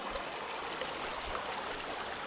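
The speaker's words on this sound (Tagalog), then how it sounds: "Yan, itong ilog sa amin guys." Rural river water flows continuously, a soft steady rush and trickle with no speech, fairly quiet and even throughout.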